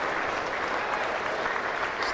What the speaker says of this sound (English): The applause you can hear is for the 300 break.